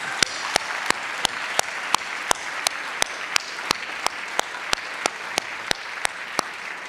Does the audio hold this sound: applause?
yes